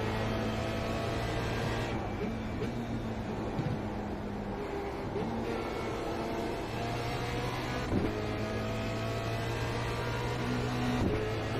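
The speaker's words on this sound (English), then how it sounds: "Really can hear the turbo blow." A steady Formula Renault 2.0 engine drone in the iRacing sim at Watkins Glen, engine tones shifting and brief bursts of turbo blow-off hiss, continuous and fairly loud, with no talking.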